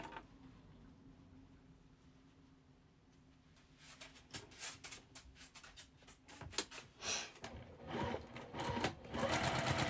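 Sewing machine stitching crazy house quilt block pieces, a quiet hum at first, then growing into louder bursts of rapid stitching that build toward the end.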